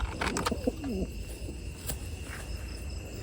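A pigeon coos softly up close, a few low throaty notes, then faint background hiss and chirping insects.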